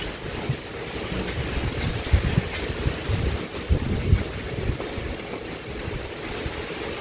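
Steady wind blows by the sea at an outdoor construction site laid with steel matting, rushing and buffeting the microphone in close, uneven gusts with no talking.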